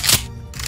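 Weapon reload in Brutal Doom SIGIL: a short two-part mechanical click-clack, a sharp metallic snap followed by a second lighter click, brief and close.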